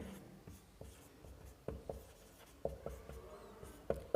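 A pen scratches steadily on paper while a maths problem is being worked out, giving faint, close strokes with occasional sharper taps and no talk over them.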